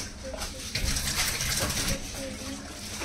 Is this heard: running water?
yes